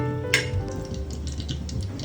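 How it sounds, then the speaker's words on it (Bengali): Dried chillies fry in a little oil in a pan, giving a soft, steady sizzle with light crackles and one sharper pop near the start. "অল্প একটু তেল দিয়ে নেব, শুকনো মরিচগুলো দিয়ে দিচ্ছি, এগুলো একটু হালকা করে ভেজে নিব"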